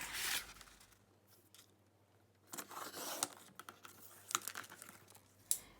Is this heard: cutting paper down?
yes